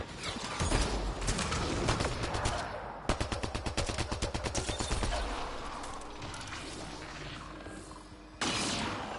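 Gunfire in the sci-fi shooter Mass Effect: Andromeda, a loud sustained stretch of rapid shots with a clear rhythmic burst in the middle, tapering off before another sharp blast near the end.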